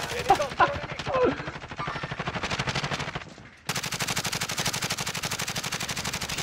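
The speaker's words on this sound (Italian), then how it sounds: "Comunque stanno sparando" Video game gunfire rattles in rapid, sustained automatic bursts, with a brief break partway through before another long volley. Voices are briefly heard under the opening shots.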